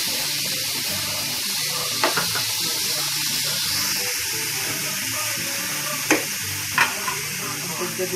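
Beef and potato marbles with garlic frying in a pan over low heat, a steady close sizzle with occasional utensil clinks and scrapes as the food is stirred.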